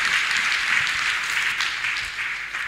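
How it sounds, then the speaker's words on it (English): A church congregation claps steadily through a testimony service, a continuous wash of many hands filling the room at an even, fairly loud level without pause and without voices on top. "Can you clap mightily for Master Jesus?"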